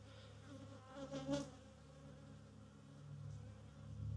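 Honey bees swarm and buzz around an opened, stirred-up hive during spring maintenance, a steady faint drone with a brief louder swell as insects pass close.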